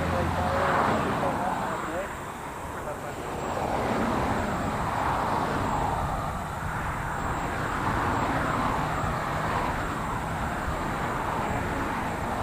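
An airliner takes off from LAX, its jet engines roaring as a broad, steady rumble that swells slightly, heard from a distance outdoors with continuous background noise.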